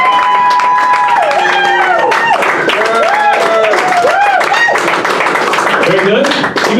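Audience at a comedy primary-style event clapping to vote for a candidate, dense loud applause with cheering and lively voices mixed throughout.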